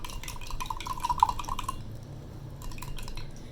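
Salt stirred vigorously into water to dissolve it, producing a quick run of light clinks and tinkles from a spoon against the container, then quieter swishing, close and without talk.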